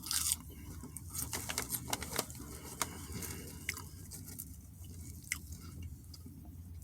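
Potatoes being chewed and eaten close to the mic during a mukbang, with soft, wet, irregular chewing and squishy bites repeating quietly throughout.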